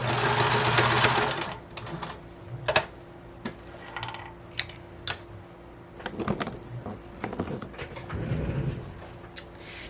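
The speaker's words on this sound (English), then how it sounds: "I'm going to sew across the top, and I'm going to do a 1/2 inch." Sewing machine stitching a half-inch seam across the top of DKNY curtain fabric: a short, loud burst of close motor whirring, followed by scattered mechanical clicks and knocks.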